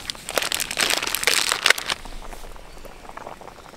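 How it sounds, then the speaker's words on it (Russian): Pasta boils in a pot on a stove, giving a dense crackling bubble that is loud and busy for the first two seconds, then settles into a quieter, steady simmer with no talking. "А пока я просто варю макарончики"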